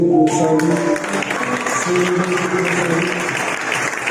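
A church congregation at a Sunday service bursts into sustained applause acclaiming God, dense clapping filling the room while a voice speaks briefly over it at the start.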